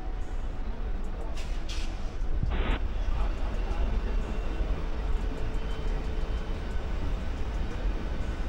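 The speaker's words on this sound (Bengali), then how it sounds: "ওদিকে দেখো হাওড়া দেরাদুন এক্সপ্রেস ঢুকছে" The Howrah Dehradun Express rolls into platform 14 at Howrah station with a continuous heavy rumble of wheels and carriages, joined by a brief high metallic squeal partway through, amid busy station ambience.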